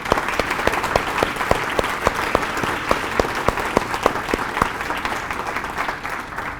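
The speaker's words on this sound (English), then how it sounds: "So I want to thank them publicly and ask for a round of applause." Steady audience applause fills a civic State of the Cities 2022 address for Farmington and Farmington Hills, a dense run of claps with sharp individual hits standing out, continuing evenly without voices.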